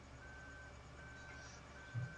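Tractor reversing alarm in the video game Farming Simulator 2015, a faint steady tone over a low engine rumble, continuous and distant.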